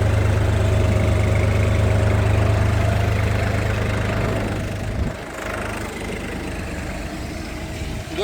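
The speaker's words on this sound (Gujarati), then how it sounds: "આ આપણે બધું ટ્રેક્ટર બીજા ગેરમાં હાકેલું છે" A tractor engine drives in second gear at about 7 to 8 km/h, a loud, steady low-pitched drone close by that eases and shifts in tone about halfway through, then carries on more quietly.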